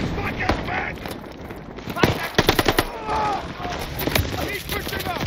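Gunfire in the Call of Duty Vanguard campaign: bursts of rapid automatic shots mixed with single cracks and battle clatter, loud and close, with a player talking over parts of it.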